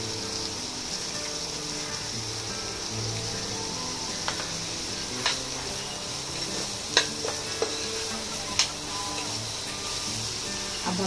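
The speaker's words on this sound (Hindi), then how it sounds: "कुछ सॉफ्ट होने तक हम थोड़ा सा पका कर लेंगे। हमारी वेजीज भी थोड़ी गल जाएंगी।" Vegetables cooking in a pan, a continuous close sizzle with occasional scrapes and clicks of a spoon stirring, steady and moderately quiet with no talking over it.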